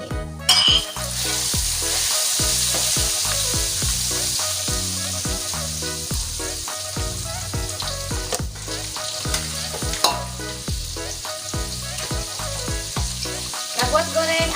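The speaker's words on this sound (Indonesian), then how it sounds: "buat goreng ati ampelanya ini nggak usah garing-garing ya teman-teman." Chicken liver and gizzard fry in hot oil with a loud, continuous crackling sizzle. Repeated stirring scrapes and pops punctuate it steadily throughout.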